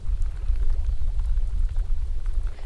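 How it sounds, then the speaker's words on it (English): Hail pelts the surface of a lake during a trout fishing trip, a dense continuous pattering hiss with deep rumbling wind underneath, loud and unbroken throughout. "It's starting to hail."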